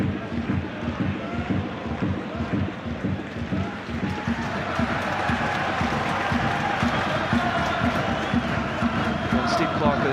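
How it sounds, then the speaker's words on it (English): A home crowd at a Kilmarnock versus Celtic football match applauds a midfielder, with a steady wash of clapping from the stands running throughout beneath a commentator's voice. "the home crowd showing their appreciation"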